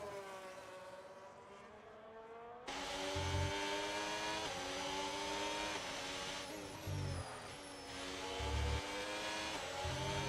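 A Haas Formula 1 car engine in an F1 racing video game screams as it accelerates, its pitch climbing and then stepping down at each gear change, loud and close with no talking.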